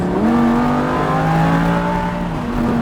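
Lamborghini Huracán on a race track accelerating hard, a loud close engine note climbing steadily in pitch for nearly three seconds with a brief dip near the end, no talk.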